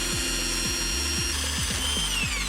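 A power drill bores mounting holes in metal for a VIAIR 444C onboard air compressor: a close, steady high-pitched whine with a rhythmic, repeating labouring pulse as the bit bites, with no voices.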